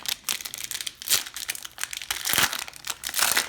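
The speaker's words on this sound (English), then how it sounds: "opening these packs kind of creates quite a bit of noise in the background" Foil wrappers of Donruss basketball trading card packs crinkle and crackle as they are torn open, loud close-up bursts of rustling that come in uneven waves, with no voices.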